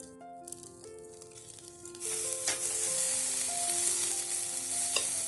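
Braising sauce for crabs bubbles and sizzles in a pan, starting quiet and then rising to a loud, steady hiss with crackling pops, close up and with no voices.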